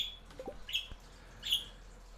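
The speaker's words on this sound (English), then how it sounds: "The birds are a joy to hear." Birds in the Stardew Valley farming game give a few short, high, thin chirps, two or three separated calls over a quiet, low background.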